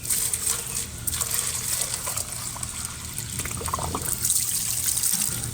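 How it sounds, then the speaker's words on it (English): Water poured into a portable clean-up pump to prime it, a steady trickling splash running continuously and fairly close, with a low mechanical rumble underneath and no talking. "Pour some water in there."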